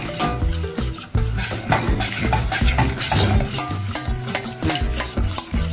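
A spoon stirs thickening batter in a pot, loud repeated scraping and knocking against the metal in an uneven rhythm over a low bubbling sizzle.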